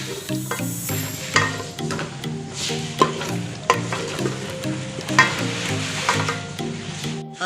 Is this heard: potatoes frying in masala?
yes